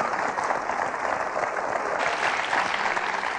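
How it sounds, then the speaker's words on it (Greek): Studio audience on a Greek television quiz show applauding, a dense, steady burst of clapping from a crowd lasting a few seconds with no talking over it. "κατάλαβες και από τα χειροκροτήματα ότι είναι κάποιοι που το βρήκαν σωστά"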